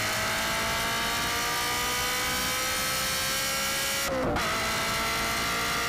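A Ferrari F355 engine holds a steady high, whining note with rising harmonics, then briefly dips and recovers as if shifting, loud and close throughout.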